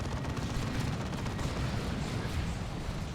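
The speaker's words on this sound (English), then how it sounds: "Stern Guard using the Hellfire rounds to dissolve some Eldar with those acid bullets" Sternguard Space Marines firing Hellfire acid rounds in Dawn of War 2, a dense, steady roar of rapid gunfire blended with battle noise, continuous and fairly quiet throughout.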